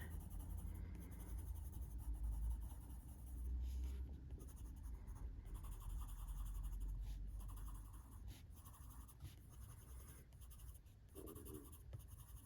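A light phthalo blue colored pencil shading leaves on a coloring page, a soft continuous scratchy strokes close up, steady and quiet with brief pauses.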